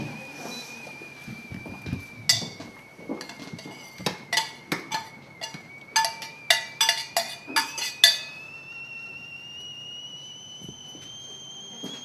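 A cooking pot lid is lifted during a kitchen cookware demonstration, producing a quick series of metallic clanks and clinks over a thin, steady high-pitched whistling tone in a quiet room.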